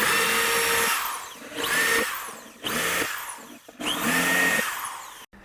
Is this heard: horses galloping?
no